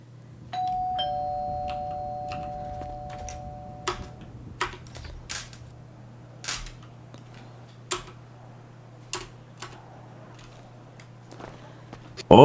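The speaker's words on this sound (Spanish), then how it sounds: "El timbre." A home doorbell rings near the start with a sustained two-tone chime, then a series of sharp clicks and taps follow at intervals, like a lock being worked, over a low steady hum.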